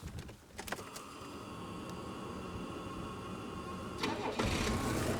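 An old diesel engine, recently given a combustion cleanse, cranks briefly and fires, settling into a rough running clatter that grows louder near the end.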